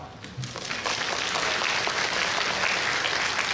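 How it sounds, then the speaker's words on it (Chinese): An audience at the COSCUP 2016 opening ceremony breaks into sustained applause, a dense wash of clapping that swells quickly and holds steady. "那请各位先给自己一个掌声好"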